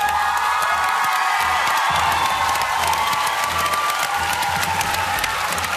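Large audience at the Eurovision Young Dancers 2013 show breaking into loud, sustained applause mixed with cheering and whoops, a dense continuous crowd roar with no talking.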